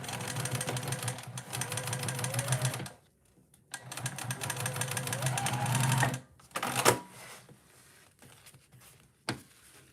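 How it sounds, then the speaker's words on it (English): Sewing machine stitching a bag lining in two steady runs of rapid motor-driven needle chatter, each lasting a few seconds, with a pause between them and a short burst near the end. "I'm gonna sew the lining just to get it out of the way"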